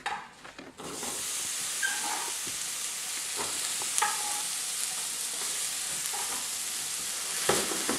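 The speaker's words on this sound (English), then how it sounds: "Put the onions into the pan, saute them until they're well done" Roughly chopped large onion frying in a pan, a steady broadband sizzle close by with a few faint clinks and stirring taps, with no talking.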